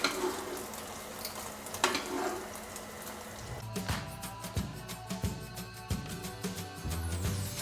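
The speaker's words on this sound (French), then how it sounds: "On va faire revenir les petits gnudi légèrement dans un peu d'huile d'olive." Small Tuscan gnudi sizzling gently in olive oil in a pan, a soft crackle that picks up partway through with stirring and scraping, fairly quiet, no talking.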